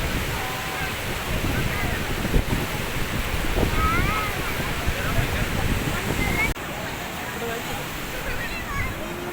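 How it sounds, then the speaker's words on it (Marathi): Water flows steadily along a stream at Tapovan in Panchavati, Nashik, a continuous close rushing wash with faint voices underneath. "इथे जातंय पाणी. इकडे पण जातंय आणि तिकडे पण जातंय."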